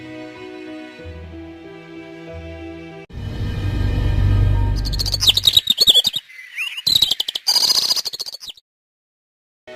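Parrot chirping as a sound effect in a Hindi story narration, bright rapid tweets in bursts after a stretch of music and a whooshing swell.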